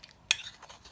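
A spoon stirs two spoonfuls of plain flour with water into a slurry in a bowl, giving one sharp clink followed by faint, soft scraping, quiet and close.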